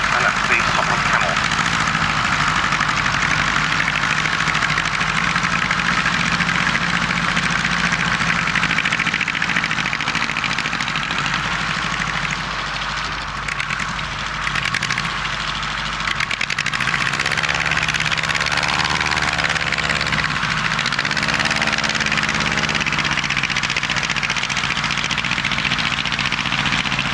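Rotary-type engine of a Sopwith Camel replica biplane at an RAF Finningley air show, a steady continuous drone heard at a distance across open ground with crowd noise and commentary over it.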